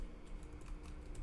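Soft, quick keystrokes on a computer keyboard, a brief burst of faint light clicks close by against a low background hum.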